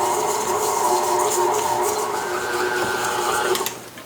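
Stand mixer creaming butter and sugar for cookie dough, a steady whirring motor drone that runs loud and even for a few seconds, then winds down at the end.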